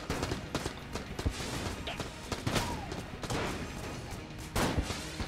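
Rapid bursts of enemy gunfire in the roguelike shooter Enter the Gungeon, sharp repeated shots crackling over a busy game soundtrack, with several louder blasts standing out.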